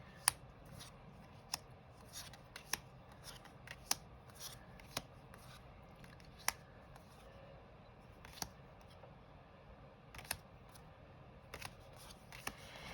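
A tarot deck being flipped through, soft papery rustling broken by about a dozen crisp snaps of cards spaced irregularly, close but quiet, without talk.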